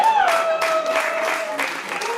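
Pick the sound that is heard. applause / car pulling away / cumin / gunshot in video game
applause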